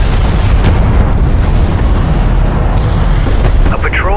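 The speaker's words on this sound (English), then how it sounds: "Armor vehicle taking effective fire." An armored vehicle comes under heavy fire in Homeworld: Deserts of Kharak, with loud, continuous booming explosions and rumbling impacts throughout and a voice heard under the din.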